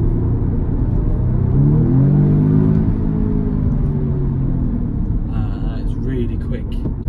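An Audi S3 Quattro hot hatch with roughly 300 bhp accelerating hard, its engine note rising loud and steady for several seconds as a driver talks over it.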